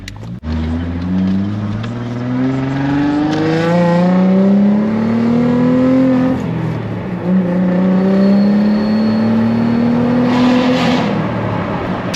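An Audi Allroad accelerating on the road, its engine note climbing steadily in pitch through the gears with a brief shift dip, loud and continuous from start to finish.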